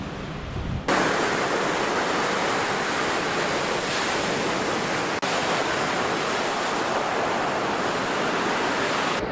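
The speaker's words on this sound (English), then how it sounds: "The lake's a little choppy right now with winds of 15 kilometers an hour from the south." Choppy waves on the world's biggest lake wash against a pebble beach under a 15 km/h south wind, a dense, continuous roar of surf that starts abruptly and stays loud and steady.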